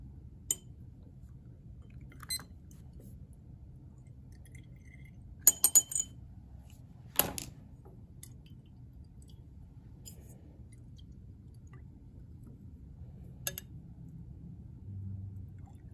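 Iodine solution, 5 ml, goes into laboratory glassware for the iodination of acetone. A few sharp glass clinks and taps land sparsely over a quiet room hum, with a small cluster near the middle.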